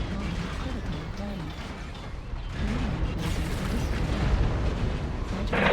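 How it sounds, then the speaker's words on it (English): Artillery shells land in a Mechwarrior Online battle, deep rumbling booms rolling beneath a voice, with the blasts growing heavier and louder toward the end. "Goddamn artillery."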